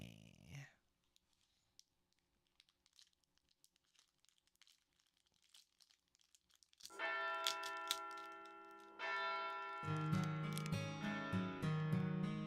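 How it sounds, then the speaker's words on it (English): A distant bell rings in the Fate/Grand Order game, coming in after about seven seconds of near silence as sustained ringing tones that swell and layer over the final seconds. "Vintagel's Bell of Pilgrimage, which I've been hearing constantly for 16 years, rings in the distance"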